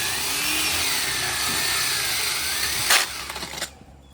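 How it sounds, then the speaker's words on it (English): A steady, loud grinding whine of a core drill boring into stone for a retaining wall fence runs without pause, then cuts out near the end after a couple of clunks. "his helper will go on each side of the core drill and make sure that he is drilling down level"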